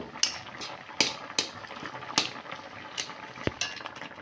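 Boiled mango is mashed and stirred in a metal cooking pot: a spoon scrapes and clacks against the sides in irregular, fairly faint knocks over a soft background.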